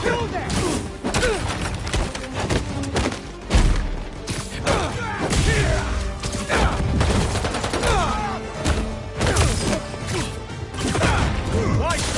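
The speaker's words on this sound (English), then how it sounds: "those fireworks are lit?" Fireworks in a Spider-Man video game go off in a rapid fusillade of loud cracks and bangs, with thuds and crashes mixed in, bursting in clusters across the stretch alongside game voices.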